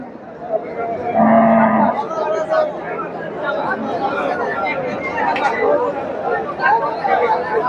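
A cow moos in a long low call at a crowded cattle market in the rain, close by, over constant chatter of people around and someone talking in the foreground.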